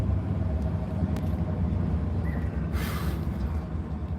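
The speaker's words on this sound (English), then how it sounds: "so I gotta leave the truck running to charge the battery" A parked truck idles with its engine left running, a steady low rumble close by that holds evenly throughout, with a brief faint hiss partway through and no speech.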